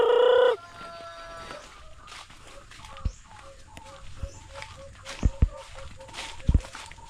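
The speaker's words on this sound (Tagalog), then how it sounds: "yung iba pong manok ay nadinig eh." Chickens cluck intermittently nearby, with a brief loud burst at the start and scattered thumps and footsteps in a quiet setting.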